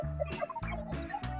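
Chickens cluck and call in a coop bedded with rice hulls, several short clucks and squawks overlapping close by in a quick, uneven rhythm.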